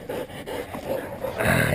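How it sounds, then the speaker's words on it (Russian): Hunting dogs worrying a wild boar, growling and whimpering close by in a continuous rough stream that swells louder toward the end. "Собаки, собаки,"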